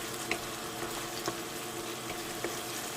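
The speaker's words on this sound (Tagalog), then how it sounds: "Antayin lang natin na maluto yung ating garlic and onion." Garlic and onion fry in a pan for buttered seafood, a steady close sizzle with faint crackles and a few soft clicks of a utensil throughout.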